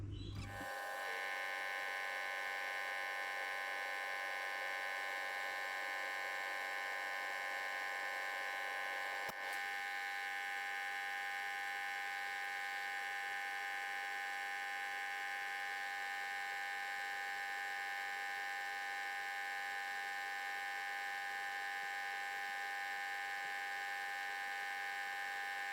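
Lathe running with a steady, continuous electric hum and whine while rounding corners off a hydraulic cylinder part, alone without speech.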